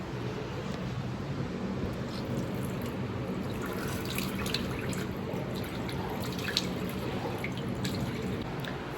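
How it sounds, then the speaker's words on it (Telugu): Water from a bathroom sink tap runs steadily during a morning face wash, a constant close splashing hiss with small drips and spatters throughout and no voices. "సో ఇప్పుడు వెళ్ళి ఫేస్ వాష్ కూడా చేసుకో"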